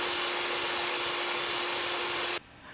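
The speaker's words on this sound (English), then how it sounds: "we're gonna be mixing together eggs and the sweetener and vanilla extract with an electric mixer" An electric mixer whisks eggs, sweetener and vanilla extract for a keto frosty, giving a steady, loud, high whirring drone that runs unbroken and then cuts off abruptly near the end.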